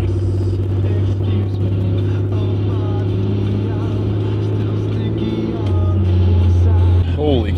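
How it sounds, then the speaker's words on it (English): A loud vehicle engine droning on a road, heard from inside a Cummins diesel truck, with a strong low steady hum that shifts pitch near the end while someone talks over it. "You got a loud engine right there"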